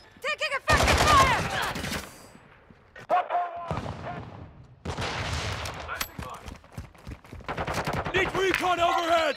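Gunfire in the video game Call of Duty: Modern Warfare II, with loud, close bursts of rapid automatic fire and single shots coming in irregular clusters separated by brief gaps, while voices call out and talk between and over the shooting.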